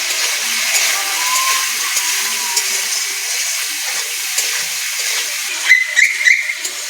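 Winter vegetables for a spinach and cabbage ghonto fry in a pan with salt and turmeric, making a soft, steady hiss and sizzle, with a few sharper scraping clinks near the end.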